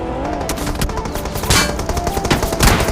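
Rapid bursts of gunfire in the BGMI battle royale game, a dense run of repeated shots with a few louder cracks standing out near the end, loud and continuous with no talking.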